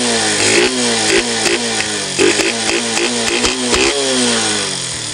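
Suzuki Smash 115 motorcycle with a stock exhaust pipe and big elbow revving hard and close, engine pitch climbing and dropping repeatedly in sharp throttle blips over a steady loud drone.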